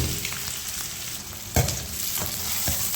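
Mustard seeds, green chillies and onion frying in a pan for a cucumber palya, giving a steady close sizzle with crackling pops and one brief louder stir or clatter midway.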